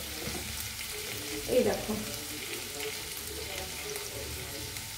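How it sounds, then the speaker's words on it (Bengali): Cracked whole cardamom pods fry in hot oil for a festive Saraswati Puja bhog thali, giving a steady close crackling sizzle throughout, with a brief spoken phrase partway through. "এলাচ ফাটিয়ে দিয়ে দেবো"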